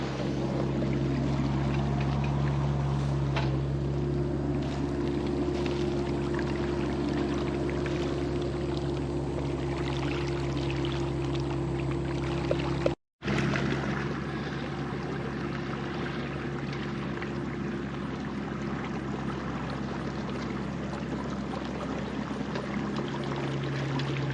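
Water pouring steadily out of a drained wet hole and down a trench, a constant rushing flow with a low hum under it, near and unbroken apart from a short dropout in the middle.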